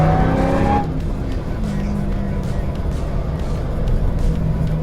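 A Jeep Gladiator engine runs loud and close with a steady rumbling drone, briefly mixed with a higher whine at the start, then holding an even, throaty tone throughout.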